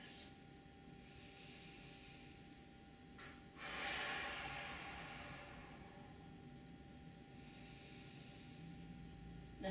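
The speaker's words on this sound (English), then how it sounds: "we're going to breathe into the entire body for 4 deep breaths" Deep breathing during a stretching routine for office workers, with hands to the floor: a few slow, hissing breaths close by, the loudest swelling around the middle and then easing off, with no talking.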